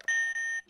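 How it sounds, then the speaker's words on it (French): A game buzzer gives a single electronic beep, a loud steady tone lasting about half a second with a brief dip midway, heard up close. "dès que ça fait bip, ça enregistre"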